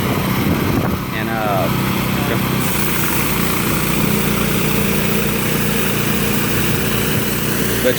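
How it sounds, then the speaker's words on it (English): A gas-powered pressure washer drives a rotary surface cleaner across a concrete residential driveway in Sugar Land, Texas, making a steady, loud engine-and-spray drone that runs unbroken throughout, with a brief spinning whine early on. "low pressure clean it using our rotary surface cleaner"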